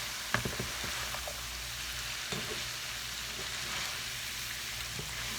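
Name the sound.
apples frying in a pan, being stirred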